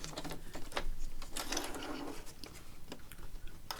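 A sewing machine stitching fabric to finish off an Edith Holden ephemera piece, running to the end of a seam and reversing: a continuous close mechanical whirr with rapid ticking needle strokes and a brief change in pitch midway, no talking.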